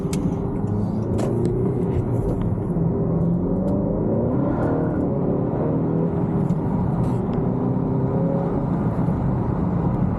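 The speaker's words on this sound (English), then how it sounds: "When I brake boost second gear, this thing's nuts." A 2019 Honda Accord Sport 2.0t with a six-speed manual and a Ktuner install is brake boosted in second gear, its engine a loud, steady close roar with rising tonal whine from inside the car.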